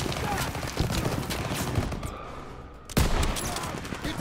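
Gunfire crackles through a Call of Duty WW2 battle set on the Rhine, with dense, continuous bursts and a sharper close report near the end, while voices shout over the shooting.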